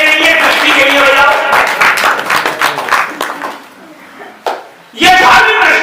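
Scattered audience clapping at a religious sermon for a martyrdom-day observance, strongest early and tapering off into quiet, then a sharp single slap and a renewed burst of claps at the end.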